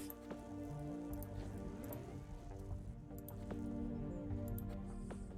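Steady rain in the video game Planetbase during a storm, a continuous soft patter with scattered drips and occasional sharper taps.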